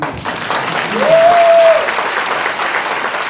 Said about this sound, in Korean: 박수 치시는 분은 잘하신 거예요.